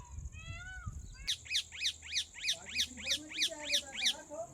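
A peacock in a farm field gives a rapid series of about ten loud, repeated shrill calls in a steady rhythm, after some quieter calling and a brief voice at the start.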